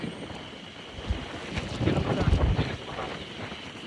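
Strong wind gusts buffet the microphone on the Tsutsuji suspension bridge in Nikko National Park, a rough continuous rumble that swells in the middle and then eases, with no clear talk.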